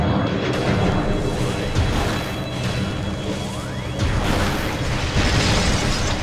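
A missile explodes on space pirates in the Metroid Prime video game, dense booming blasts and crashes piling up loudly with whooshing sweeps throughout.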